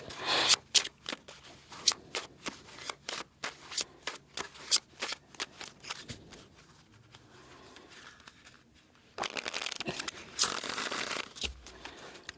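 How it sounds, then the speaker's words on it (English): Cards riffle-shuffled repeatedly in quick bursts, close by, with short pauses between shuffles and a denser, longer shuffle near the end. "let's cut this deck here and I'll grab the next one, shuffle that one up"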